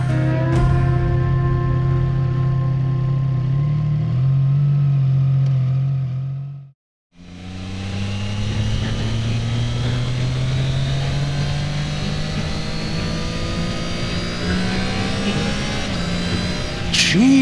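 A Triumph Trident 660 motorcycle engine drones loudly at steady revs, cuts out briefly, then pulls hard again with pitch climbing as it winds up through the rev range, close and continuous.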